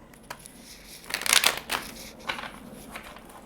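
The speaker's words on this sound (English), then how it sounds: "Let me just do one more shuffle here." Tarot cards are shuffled by hand at close range, a short burst of papery riffling and slapping, with a few lighter shuffling rustles trailing after it.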